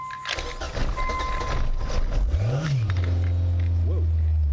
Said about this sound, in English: you crank the engine.